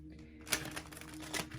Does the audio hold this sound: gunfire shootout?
no